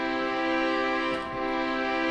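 A short chord progression played with breaks between the notes, sustained tones that dip briefly in the middle before resuming, clear and alone with no talking.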